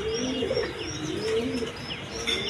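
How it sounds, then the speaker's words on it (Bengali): Breeding pigeons coo in low, rolling phrases mixed with higher chirps, nearby and steady, with no voices over them. "ডিম বাচ্চা করানো কবুতর"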